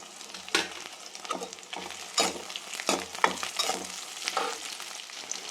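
Ginger garlic paste frying with onions, tomatoes and dried red chilies for mutton gravy, a soft steady sizzle broken by several bursts of spatula stirring and scraping, with no speech.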